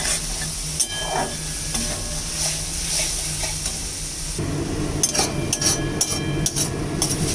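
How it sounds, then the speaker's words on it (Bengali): Small pond shrimp are stir-fried with spices in a pan, giving a close, continuous sizzle broken by repeated scraping and stirring clatter that grows busier toward the end, with no talking. "একটু ভালো করে মশলার সঙ্গে কষাতে হবে।"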